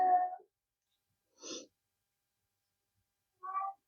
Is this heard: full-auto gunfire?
no